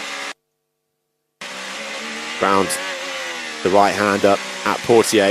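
Formula 1 cars racing at the Monaco Grand Prix, high-pitched engines rising and whining past, with a brief cut to silence and a commentator talking over the noise.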